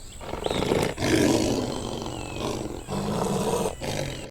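Lions in a children's counting cartoon roar in several long, loud, growling bursts separated by short breaks, close and without any speech.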